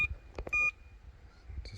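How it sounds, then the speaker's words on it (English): A carp fishing bite alarm is tested while rods are set up by the water, giving a few short electronic beeps, then one longer close tone, with faint handling knocks around them. "Just setting up the buzzers."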